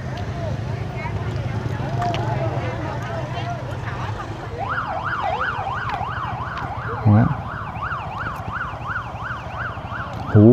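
A siren wails at a Vietnamese alley street market to drive off unlicensed vendors, starting as a slow rising-falling tone and switching to a fast warbling whoop, with traffic noise and a couple of loud bumps.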